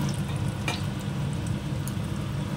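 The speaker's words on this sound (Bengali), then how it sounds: "এরকম করে হালকা হালকা একটু করে ভেজে নিচ্ছি" Vegetables frying lightly in a pan produce a steady close sizzle, with a few brief stirring scrapes and utensil clicks on top.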